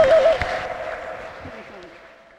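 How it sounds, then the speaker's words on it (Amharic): A church congregation claps in praise of Jesus Christ, a short burst of applause that quickly fades under a held sung or spoken tone and trailing voices. "አጨብጭቡ ለጌታ ለኢየሱስ ክርስቶስ ክብር"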